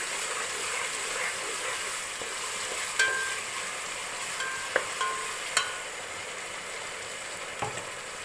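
Ginger and garlic paste fries in a pan for Kerala-style dum biryani, a steady soft sizzle with a few light clinks and scrapes of stirring, no voices over it.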